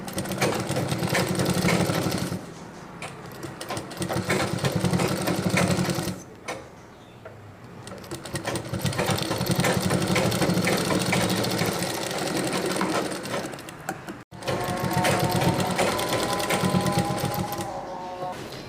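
A sewing machine stitches a sleeve with piping onto a chudidhar, whirring loudly and close in long continuous runs broken by brief pauses and one abrupt stop.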